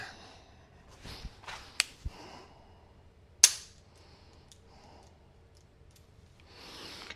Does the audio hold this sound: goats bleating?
no